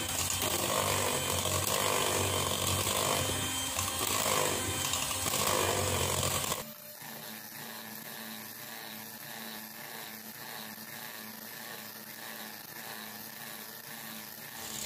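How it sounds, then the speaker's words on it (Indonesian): An electric mixer beating margarine until pale for a cake batter, loud steady whirring motor that drops abruptly to a quieter, lower hum partway through. "Jadi margarinnya kita akan mixer sampai berwarna putih pucat."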